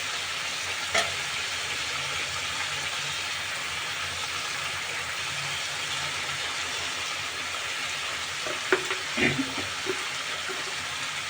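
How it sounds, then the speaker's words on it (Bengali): Chicken pieces fry in a pan for a chicken curry, a steady soft sizzle with occasional stirring clatters and scrapes toward the end. "এবার আমি চিকেনটাকে খুব ভালো করে কষিয়ে নিব।"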